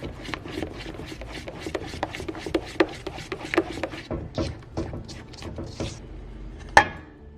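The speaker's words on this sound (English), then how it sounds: "Just keep stirring until all the sugar is melted. And just scrape the sides as you go." A spoon stirs melting sugar in a pan and scrapes around the sides in a quick series of rough, rhythmic strokes, close and moderately loud, ending with a sharper clatter.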